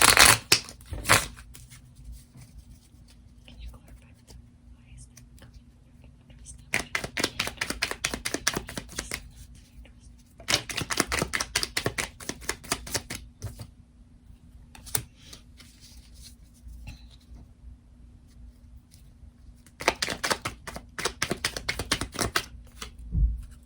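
Tarot cards riffled and shuffled by hand in three or four bursts of rapid flicking clicks, each lasting a few seconds, separated by quiet pauses.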